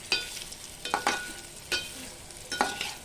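Small vegetable pieces sauté in a pan under a soft steady sizzle, broken by several distinct scraping stir strokes of a spoon or spatula, close and fairly quiet.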